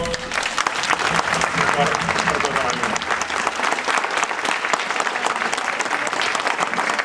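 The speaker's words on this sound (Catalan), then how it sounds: "un fort aplaudiment pel Cisco" A crowd gives loud, sustained applause for Cisco at the christening of a giant figure, with a voice faintly audible beneath the dense clapping.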